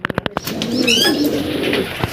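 Racing pigeons coo nearby in a short burst, with soft throaty rolling calls after a few quick clicks or taps, close and fairly loud, no talk.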